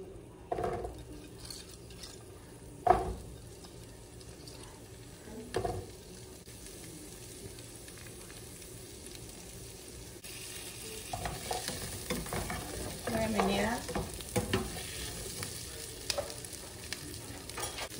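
Asparagus frying in a little olive oil in a pan over medium heat, a low steady sizzle with occasional clinks and stirring knocks, faint and close, growing somewhat busier toward the end.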